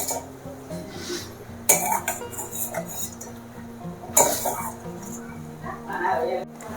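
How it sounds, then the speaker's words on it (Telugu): A spoon scrapes and clinks against a pan as fried dry prawns are moved into a bowl, with a few sharp metallic knocks and scraping over a low steady hum, while a voice talks alongside. "స్టవ్ ఆపేస్తున్నా ఇవన్నీ బౌల్లోకి తీసుకుందాము"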